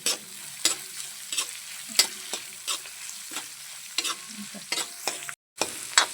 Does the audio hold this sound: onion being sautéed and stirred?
yes